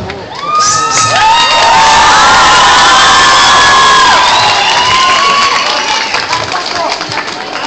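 A crowd at a concert roars with loud cheering, whoops and high shouts, some clapping mixed in, swelling quickly and holding at full volume before easing slightly.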